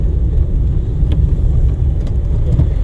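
A car's engine runs steadily at low speed during a driving lesson around a gear change into second, a continuous close rumble and whir with no voices over it.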